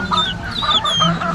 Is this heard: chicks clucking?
yes